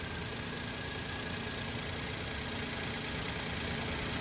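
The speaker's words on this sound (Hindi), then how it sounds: "भाई कुछ ज़्यादा ही वाइब्रेशन है इंजन में" A Maruti WagonR car engine with a seized-engine fault idles with heavy vibration, a steady dense rumble with knocking texture running continuously and fairly loud throughout, with no talk.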